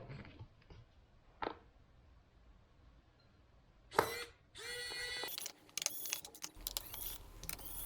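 A screwdriver works loose the bottom case screws of an early 2015 MacBook Pro A1502, giving faint close clicks and ratcheting scrapes with short bursts of rattling metal handling between quiet pauses.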